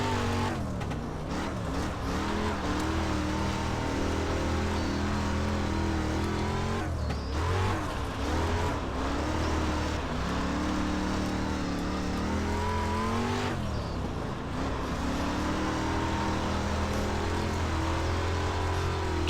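A race car engine in iRacing drones steadily on a short dirt track at the Chili Bowl, a low-powered car whose pitch rises and dips through the turns, loud and continuous with no talk.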